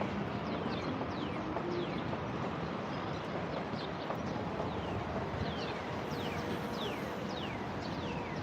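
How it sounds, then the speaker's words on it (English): Birds chirping in a New York City park, repeated quick sweeping chirps from several birds overhead, scattered across a steady bed of city and park ambience. "Birdies are all chirping up there."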